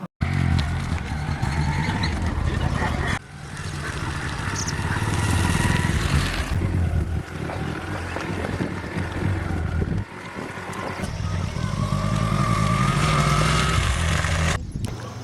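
A motorcycle ridden along a rural road toward a farm field on a rainy day, its engine droning steadily and loudly with heavy wind rush throughout, dipping briefly at a few points.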